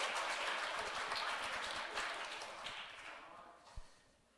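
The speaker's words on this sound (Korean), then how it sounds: "박수 한번 주십시오" A church congregation applauds at a dedication service for newly elected elders; the clapping is a dense, distant wash that slowly fades out.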